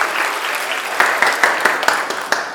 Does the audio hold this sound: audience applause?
yes